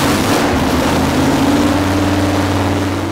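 A car engine runs steadily while its ignition timing is set, a loud, even droning hum with a rising tone as the revs climb.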